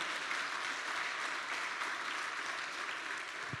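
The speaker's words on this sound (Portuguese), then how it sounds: "Pode aplaudir o Senhor, é para Ele, pode aplaudir." A church congregation applauds at a Portuguese-language sermon, a dense, steady wash of many hands clapping throughout without any break, moderately loud and filling the hall.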